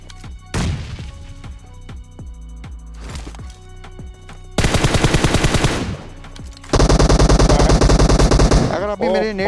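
Bursts of rapid automatic gunfire from the battle royale video game PUBG, loud and close, first sparse shots and then sustained fast volleys, with sound effects continuing at the end.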